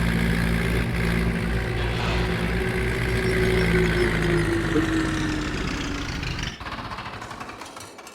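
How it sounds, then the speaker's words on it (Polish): A farm tractor engine runs steadily as the tractor is driven and parked after hay work, a loud continuous diesel rumble that drops to a lower, quieter idle near the end. "Chowaj, chowaj ciągnik, chowaj ciągnik."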